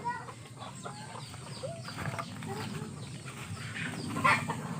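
Farm chickens, laying hens, cluck and murmur at close range in short repeated calls, with an occasional louder squawk, over a low background din.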